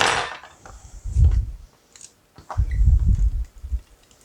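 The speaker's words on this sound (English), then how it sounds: "We're going to undo our springform pan." A springform cake pan unlatched and opened by hand, heard as a few light metallic clicks and handling clatter with soft bumps in between, close and fairly quiet.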